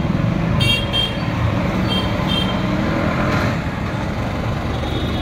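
Road traffic passes near a pigeon loft: a steady rumble of cars, buses and trucks, with a few short horn toots in the first half and a continuous moderately loud engine drone throughout.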